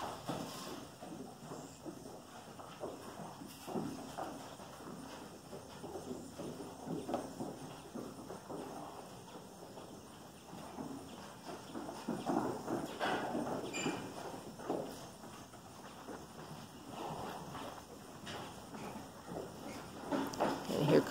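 A 33-year-old lame horse at a Florida horse rescue comes galloping in for breakfast, hooves clopping irregularly on the ground amid a steady outdoor background, with people talking over it.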